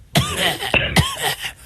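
A woman on a radio show coughs harshly several times in quick bursts, loud and close, with raspy throat-clearing between the coughs.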